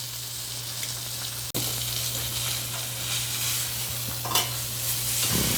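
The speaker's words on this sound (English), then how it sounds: "See it sizzling on here?" Steak sizzles steadily in a hot pan, a constant close hiss with a brief break and a few small clinks and pops.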